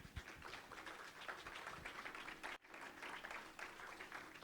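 A church congregation applauds for several seconds, a dense steady patter of many hands with a brief dip midway, heard from within the room and without speech over it.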